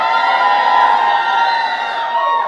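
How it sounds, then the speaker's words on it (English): A crowd at a baby shower gives a short, loud burst of cheering and whooping, with voices shouting together close by. "So can I have everybody cheer up for a second?"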